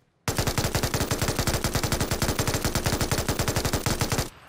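Machine gun firing in the PUBG video game, a loud, sustained automatic burst of rapid evenly spaced shots lasting about four seconds, then cutting off abruptly.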